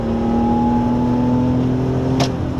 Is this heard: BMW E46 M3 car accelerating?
yes